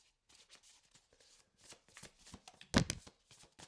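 Tarot cards being shuffled in a short run of soft papery flicks and taps, ending in one sharper slap of cards, close and quiet.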